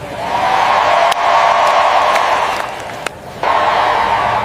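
A dense crowd roars and cheers at close range during a presidential public appearance, a continuous loud wash of voices with brief dips and surges.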